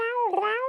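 A person imitates a cat with one drawn-out, close and clear meow that rises and falls in pitch.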